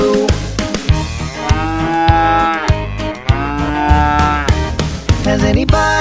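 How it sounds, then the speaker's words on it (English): A cow's moo sounds within an upbeat children's song, stretching into long drawn-out lowing tones over a steady rhythmic beat with punchy percussion hits. "The cow is going moo."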